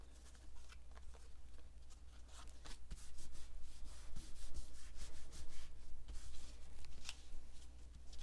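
A paper greeting card, embossed with a stars and tin tile pattern, is rubbed firmly by hand to stick down, making a soft continuous dry scuffing that grows steadier and a little louder partway through, close and without speech.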